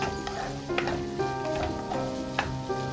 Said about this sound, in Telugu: టమాటాస్ వేసుకొని బాగా కలుపుకోండి.